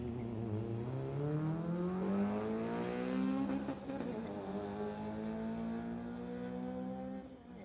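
A 1996 Honda drag racing a Mitsubishi at a street-legal drag strip, engines roaring loud and steady as they climb through rising, overlapping gear pitches before easing off.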